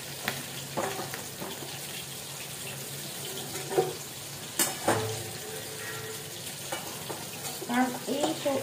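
Young flat beans stirred and frying in a pan, with soft scraping stirs and a low sizzle, plus a few sharper clatters of utensil against the pan and some running-water sounds nearby.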